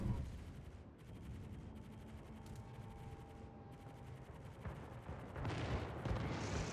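Anti-aircraft fire from a warship in a naval battle game, heard as faint, dense, continuous rattling fire against approaching torpedo squadrons, with a low rumble swelling toward the end.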